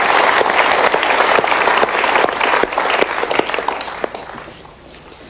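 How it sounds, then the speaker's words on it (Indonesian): Enthusiastic audience applause, dense and loud at first, then gradually thinning out and fading toward the end as the clapping dies down. "kita berikan tepuk tangan untuk dua orang ini"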